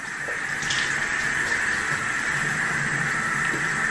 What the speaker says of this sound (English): We're just gonna wet my face.